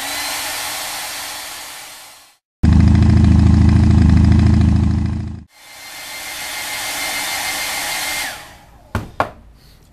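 A hair dryer blasts loud and close to dry paint, running steadily, cutting off briefly, then restarting at a different pitch before winding down, followed by a couple of sharp knocks.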